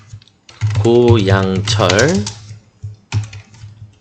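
Dependent family data entered on a computer keyboard, with the keystrokes mostly buried under a person's steady talking and a few clearer taps coming through near the end.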